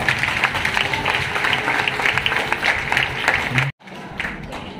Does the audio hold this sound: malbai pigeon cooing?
no